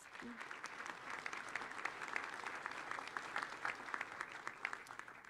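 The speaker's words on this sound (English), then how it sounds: "Let's give them a round of applause." A crowd at the 2024 Carteret Community College graduation ceremony applauds the graduates with continuous, even clapping that is fairly soft and sounds somewhat distant across a large room.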